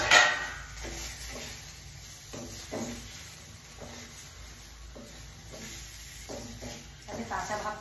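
A ground paste of green chili, poppy seed and mustard is stirred into masala in a pan, with repeated soft scrapes and a low sizzle at a slow, uneven rhythm.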